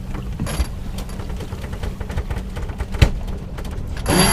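A sailboat winch being ground while the boat tacks, giving a run of rapid mechanical ratcheting clicks with a louder clunk near the end, close and fairly loud over wind and water noise.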